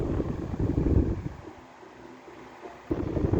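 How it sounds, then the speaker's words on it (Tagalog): A steady whirring hum of a freshly cleaned electric fan, broadband and continuous, dipping quieter in the middle before rising again. "Naibalik ko din yung ventilador."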